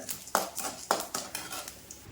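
White urad dal sautéed in groundnut oil in a pan, heard as a few close, sharp clinks and scrapes of a spoon stirring against the pan over a faint sizzle.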